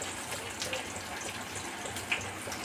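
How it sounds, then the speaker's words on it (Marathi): Water drains and drips from boiled leafy greens being squeezed by hand in a home kitchen, a soft continuous trickle with a couple of small splashes, no talking. "पाणी झारून घेऊया याचं"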